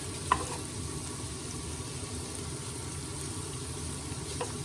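Small bits of bacon sizzle in a pan for carbonara, a faint, steady frying hiss over a low background rumble, with a couple of soft clicks near the start and end and no talking.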